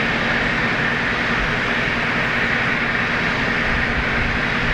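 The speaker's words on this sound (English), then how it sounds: "Do you hear the engine noise from the jet starting up?" Jet engine spooling up at an airport handling commercial and military traffic, heard as a steady, distant broadband roar with low rumble throughout.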